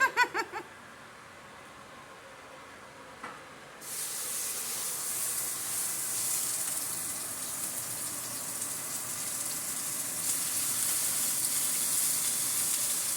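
Meat sears in a hot pan, giving a loud, steady sizzling hiss that starts abruptly after a few faint knocks and keeps going close up with no talk.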